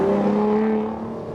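Aston Martin DB9 exhaust at high RPM with its exhaust valve opened: a short, loud, tonal engine howl that holds steady and then tapers off as it fades, with no voices.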